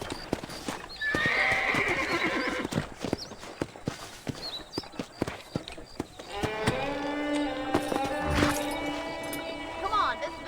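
A horse in Red Dead Redemption plods with crisp, rhythmic hoofbeats, then lets out a loud, close neigh, while voices talk in the background.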